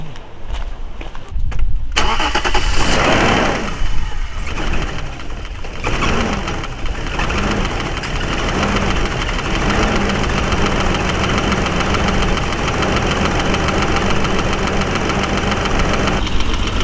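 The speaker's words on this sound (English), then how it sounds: "Start it up and you can hear what a car with that kind of mileage sounds like." An old, high-mileage BMW engine cranks and catches, then settles into a loud, steady idle with a rough, ticking valve clatter running through it.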